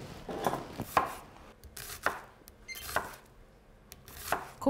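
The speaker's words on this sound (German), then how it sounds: "Die Zwiebel nehmen wir dann auch, die schneide ich dann zuerst" A knife chops an onion on a cutting board in a quiet kitchen, giving a series of sharp, irregular knocks spaced roughly half a second to a second apart.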